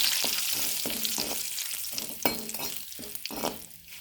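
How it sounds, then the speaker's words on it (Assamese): Food frying in a pan until crispy, a close crackling sizzle punctuated by repeated stirring scrapes at an uneven rhythm, no talk. "মচমচীয়া হোৱালৈকে ভাজি লওঁ।"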